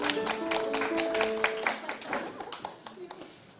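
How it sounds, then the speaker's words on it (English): An audience at an elementary school speech contest claps for a speaker, dense rapid applause that thins into scattered claps and fades, with a voice talking over the start. "Let's all give a round of applause for Chris."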